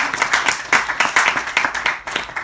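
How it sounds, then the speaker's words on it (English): An audience applauding after a conference talk introduction, a small crowd's brisk, fairly close clapping in uneven rhythmic pulses, alone without talk. "Give them a little applause"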